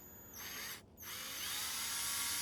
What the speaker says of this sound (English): I will get a drill and let you know what size it is. I'm going to start with 5/32 of an inch.